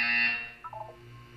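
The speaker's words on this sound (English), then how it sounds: "When you hear the buzzer, look down at the floor." A harsh electronic buzzer from the video game Portal 2 blares loudly for about half a second, then gives way to a few short, softer electronic blips over a quiet hum.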